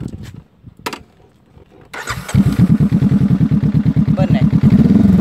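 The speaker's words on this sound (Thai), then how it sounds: "แล้วก็มาฟังเสียงท่อกัน" A Honda CBR500R motorcycle engine cranks and fires after a short quiet lead-in, then settles into a loud, close, steady exhaust rumble with rapid even pulses and a brief throttle blip near the end.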